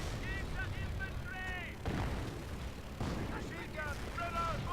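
Mortar rounds fire and burst in a strategy war game, a few heavy thuds landing at intervals amid a busy battle mix, with voices talking over the action.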